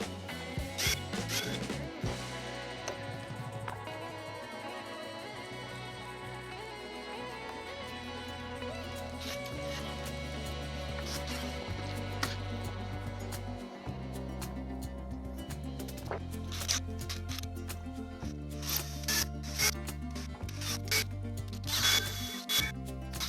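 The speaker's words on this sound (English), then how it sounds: "I'll go ahead and pre-drill all these out because of how they'll split the wood" A power drill pre-drills holes in wood for reused old decking screws, its motor whining in repeated close bursts that rise and fall in pitch, with short pauses and clicks between holes.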